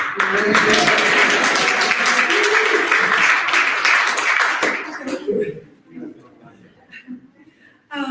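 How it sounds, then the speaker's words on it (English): A church congregation claps together in a dense, loud burst of applause for about five seconds, then it thins to scattered claps and light chuckles before a voice returns. "No, we're just supposed to start clapping"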